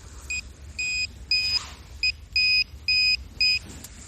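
On a beach, a metal detector held over a buried nail gives seven short electronic beeps in an uneven rhythm. The beeps are fairly faint and sit above a low background rumble.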